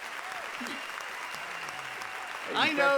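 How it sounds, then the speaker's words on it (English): Audience applause for a performer during a comedy show, a steady wash of clapping underneath a voice that speaks briefly near the end. "Give him a big round of applause."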